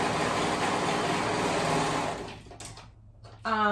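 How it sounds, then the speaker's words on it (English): A sewing machine runs steadily at close range as ruffle and connector pieces for ruffle pants are stitched into one continuous circle, then slows and stops near the end with a brief faint voice. "we're gonna sew them into one continuous circle, both the ruffle and the connectors"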